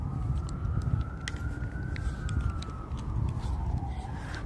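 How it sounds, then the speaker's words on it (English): Emergency sirens wail faintly in the distance across a quiet Brooklyn neighborhood at night, one rising and falling tone drifting over a low hum of traffic. "it says you hear sirens, but it's like somewhere else."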